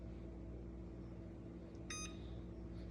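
An oven control panel gives a single short electronic beep while preheat is set for roasting a large turkey, heard faintly over a steady low kitchen hum.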